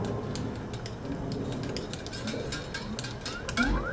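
Fret wire for a 1962 Fender Stratocaster re-fret being bent through a fret bending machine, a close, steady run of fine ratcheting clicks and geared ticking at moderate level, with no talk.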